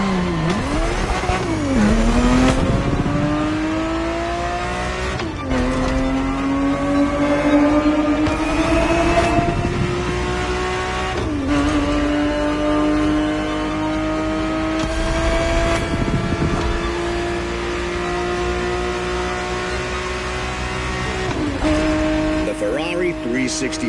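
A Ferrari 365 GTB4 from the 1970s revs loudly and drives, its engine note climbing steadily through each gear before dropping at a shift, with several gear changes spaced a few seconds apart and faint talk underneath.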